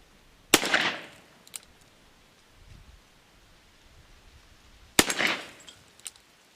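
Two sharp, loud gunshots from a factory-engraved Colt Python .357 Magnum revolver with a 6-inch barrel, fired several seconds apart outdoors, each with a short echoing tail.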